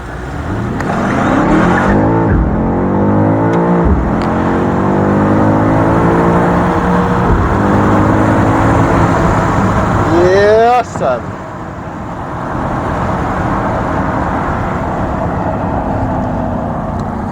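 A BMW XM G09 SUV accelerates hard, its engine climbing through rising revs with gear changes, loud and close from inside the cabin, then settling to a steady cruise after a brief cut.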